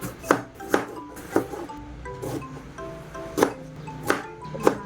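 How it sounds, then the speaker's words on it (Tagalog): Knife chopping tomatoes, ginger, onion and garlic on a cutting board, about seven distinct sharp knocks at an uneven, unhurried pace, close and clear over faint background hum. "maghihiwa tayo ng kamatis, luya, sibuyas, at tsaka ng bawang"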